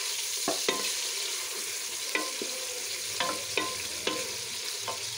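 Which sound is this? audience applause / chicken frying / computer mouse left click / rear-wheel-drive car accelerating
chicken frying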